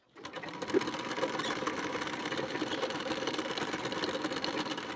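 A sewing machine runs a topstitch along the belt seam of a blouse, starting abruptly and then whirring steadily and rapidly up close for several seconds with no talk.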